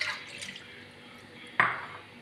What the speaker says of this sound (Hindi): इसमें हम पहले 2 कप पानी डालेंगे।